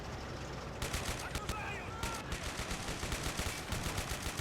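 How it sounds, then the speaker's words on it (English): Anti-aircraft gun fire in the Men of War: Assault Squad 2 battle game, a run of repeated gunshot bursts over constant combat noise, fairly steady and mid-distance, with a voice talking underneath. "that AA gun back there is opening up"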